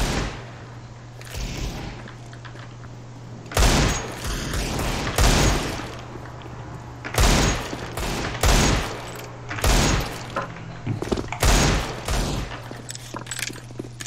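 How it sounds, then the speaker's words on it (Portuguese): Gunfire in the Counter-Strike (CS:GO) video game: loud bursts of shots in irregular clusters over about fourteen seconds, separated by quieter gaps with a steady low hum underneath. "preciso dar 10 tiros no seu pé pra você morrer"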